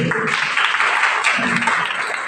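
An audience of students at a school seminar on bullying in Banyuwangi breaks into applause, a dense steady clatter of hands for about two seconds with a faint murmur underneath.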